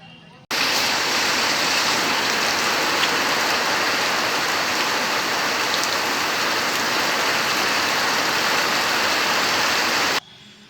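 Steady rain falls on an areca-growing area in Channagiri taluk, a dense, even hiss of drops hitting surfaces, loud and close, starting abruptly and continuing unbroken for about ten seconds.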